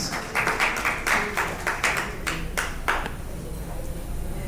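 Audience applause at a Lagos State Schools of Nursing alumni North America fifth anniversary gala, a burst of clapping by many hands that fades out over a few seconds in a reverberant hall.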